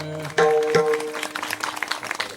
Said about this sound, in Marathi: टाळी वाजवा पुन्हा